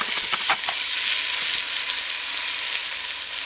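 Onions dropped into a pan of melted butter and bacon fat, an immediate loud, close sizzle with a few stirring scrapes at first, settling into a steady frying hiss with no talk.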